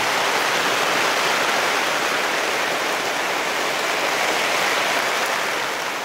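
Steady, dense hiss of rain falling outside a building, pouring continuously and fairly loud with no pauses, no voices over it.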